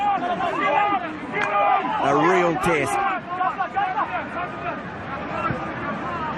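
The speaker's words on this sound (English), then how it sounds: "Quite a buzz around the crowd here rather than a raw, absorbing contest." Crowd buzz at a rugby union test between New Zealand and Argentina, a steady murmuring hubbub filling the background beneath close, continuous commentary.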